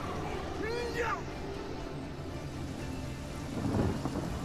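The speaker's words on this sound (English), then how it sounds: "Make it rain." Rain and thunder spell cast in the video game Divinity Original Sin, a soft hiss of rainfall with a rolling thunder rumble near the end, heard quietly under game effects and a voice.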